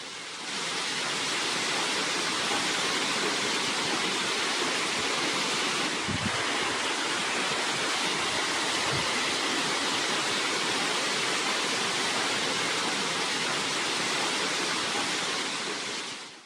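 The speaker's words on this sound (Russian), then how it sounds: "В Алупке канализация течет потоком прямо в море" Sewage pours in a steady stream into the sea at Alupka, a continuous loud rush of water with no break and no voices.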